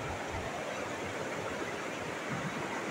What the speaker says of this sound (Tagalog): malakas lang ang agos